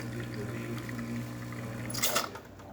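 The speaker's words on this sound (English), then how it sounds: "water is coming out pretty well, pretty smooth" Espresso machine pulling a test shot after a full service, with a steady watery hiss and trickle of flow and a faint hum, then a brief louder splash near the end.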